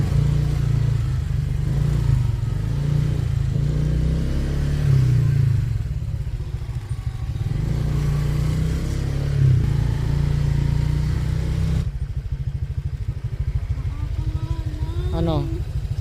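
A motorcycle engine runs steadily nearby, a low continuous drone under ongoing talk, with a brief rising whistle-like tone near the end.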